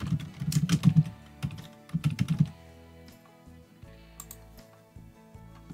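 Computer keyboard typing as text is entered into a small web task app: quick clustered bursts of close keystrokes, then sparser, quieter taps, with no talking.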